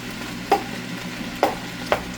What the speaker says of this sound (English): we absolutely do want this pork cooked down all the right way here